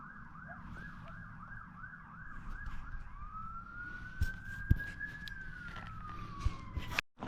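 Police sirens wail, rising and falling in rapid repeated sweeps, then shifting to a long steady rising tone, moderately loud over a low rumble of traffic.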